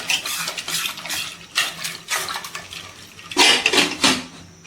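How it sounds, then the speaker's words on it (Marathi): A glass of water is poured into a rasam mixture of lentils and turmeric in a pressure cooker, giving a close splashing gush in several short bursts, with some stirring and vessel clatter. "ह्याच्यामध्ये एक ग्लास पाणी घालून घ्यायचे आणि मिक्स करून घ्यायचे"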